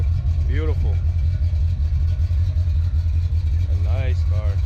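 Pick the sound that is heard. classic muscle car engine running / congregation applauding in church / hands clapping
classic muscle car engine running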